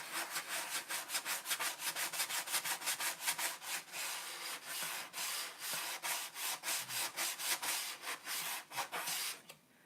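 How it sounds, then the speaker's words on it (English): Sandpaper of 320 grit rubbed back and forth over a wooden aircraft part, steady rhythmic strokes repeating quickly and close, with a brief pause near the middle. "This is 320 sandpaper here."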